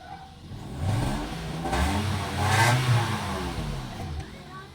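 A Toyota Vios with long cranking and low power starts up and revs, its mid-pitched engine swelling and falling in a few rising surges close by, with a rough, clattery undertone.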